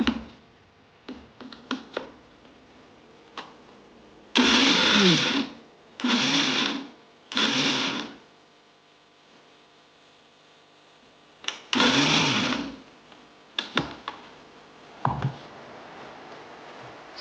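A kitchen mixer grinder pulses ridge gourd chutney in several short bursts, each a loud whirring grind lasting about a second, separated by quiet pauses with faint handling clatter.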